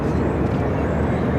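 A Flexjet business jet takes off at Phoenix Sky Harbor airport, its engines a loud, continuous broadband roar that stays steady for the whole short stretch.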